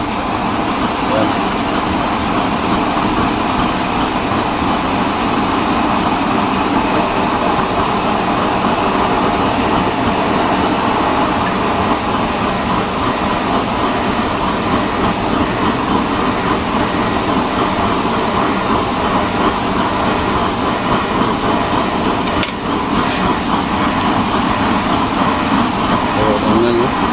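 A burner chamber blower runs through a test fire, a steady, loud, broadband roar that stays constant throughout with no breaks, and faint talk can be heard beneath it.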